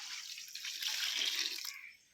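Water is poured into a pot while beef biryani cooks, making a steady, soft stream that runs for close to two seconds and then stops, with no talking.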